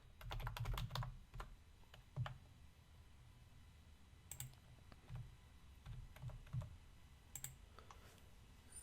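Quiet bursts of computer keyboard typing, fast clustered key clicks in short runs separated by brief pauses, close by and faint, with no voices.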